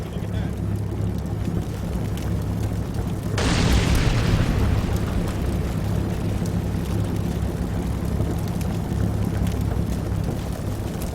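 In Combat Mission: Battle for Normandy, an artillery spotting round lands with a single loud, deep blast partway through, its roar decaying over a steady low rumble of battlefield ambience.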